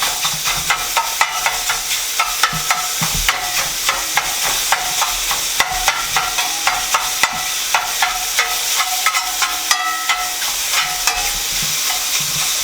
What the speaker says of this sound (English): I just take my spatula and just kind of chop up the meat.